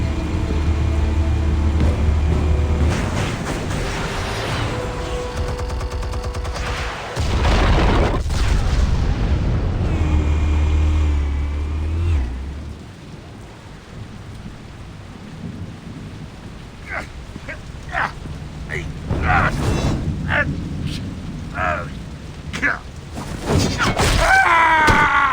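Explosives detonate in the Batman Telltale series game. Deep booming blasts and rumbling roll out at loud volume, then fade to quieter debris crackles and scattered sharp impacts.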